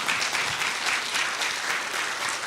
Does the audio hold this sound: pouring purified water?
no